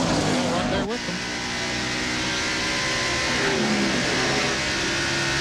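NASCAR stock cars, including Bobby Labonte's car and Rusty Wallace's Miller Genuine Draft Ford, race at the 1995 Southern 500. A steady, loud engine roar continues throughout, with a commentator talking over it.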